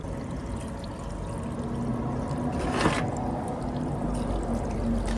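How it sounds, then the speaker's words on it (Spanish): Water runs steadily out of a rusty 1985 Suzuki GSX 550 motorcycle fuel tank after it was cleaned with vinegar and baking soda, a continuous close pouring and trickling wash. "Al otro día miren cómo sale el agua."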